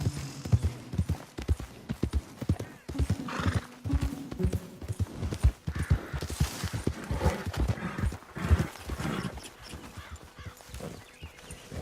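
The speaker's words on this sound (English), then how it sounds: "Real fine horse." Horse hooves clop in an uneven, continuous rhythm close by, broken by a loud whinny from the mare partway through, in the video game Red Dead Redemption 2.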